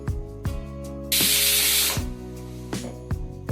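A pressure cooker used for a banana stem stir fry lets out a loud burst of hissing steam for about a second as it is opened, framed by sharp metallic clinks and knocks of the lid before and after.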